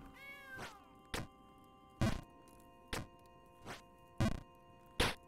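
Cat meows from the Jump King video game sound repeatedly, a drawn-out cry followed by several short, evenly spaced meows, each with a soft thunk, clear and close over a faint buzz.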